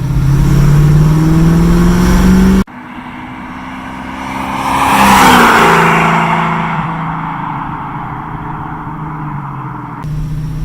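A 1969 Chevrolet Camaro with a built 350 V8 and Muncie 4-speed revs hard and loud close by, then cuts out abruptly. It rises again in a swelling pass-by roar before settling into a lower rumble.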